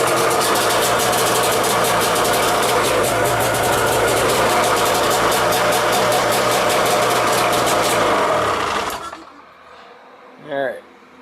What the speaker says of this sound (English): maybe I gotta start up the snowmobile